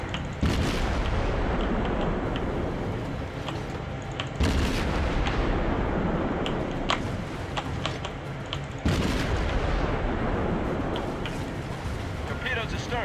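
Heavy warship main-battery salvos in the naval game World of Warships, three big booming volleys roughly four seconds apart over a constant rumble of engine and ambient battle noise, with someone talking throughout.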